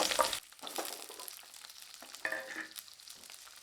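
Onions hit hot oil with a sudden sizzle, followed by a soft steady frying crackle and a few clinks of stirring.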